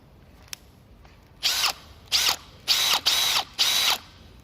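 A Makita 40V Max hammer drill spins up in five short, loud bursts with brief pauses between them, running freely without load, the later bursts sounding at a different speed.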